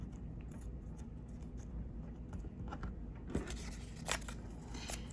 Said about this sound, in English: Rip it up.